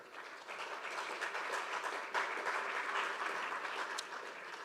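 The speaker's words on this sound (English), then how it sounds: "A warm round of applause for Jakob." Warm audience applause fills a conference hall at a maritime security event, a steady dense clapping from a crowd that holds at an even loudness throughout, with no talk over it.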